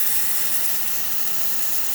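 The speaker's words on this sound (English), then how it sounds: "Nice steam coming out of the machine." Steam hisses steadily from the thermoblock of a Saeco Celsius espresso machine after a ceramic valve service, a close, continuous airy rush with a faint low mechanical hum beneath and no talking.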